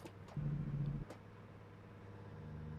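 A truck engine in American Truck Simulator hums low, swells briefly in a louder droning burst, then drops back to a quieter steady rumble after a gear change, faint and with no voices.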